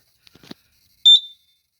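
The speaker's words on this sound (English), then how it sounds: "These horns, like I said, are extremely loud." A fire alarm horn sounds loudly during a system test as one short, piercing tonal blast. A few faint clicks come just before it.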